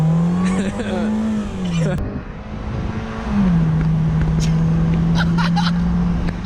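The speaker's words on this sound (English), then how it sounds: "You get like max supercharger noise at like 10 miles an hour." A steady high-pitched supercharger whine rises and holds from a moving 2006 Mini Cooper S at about 10 mph, with engine drone underneath and a voice talking over it.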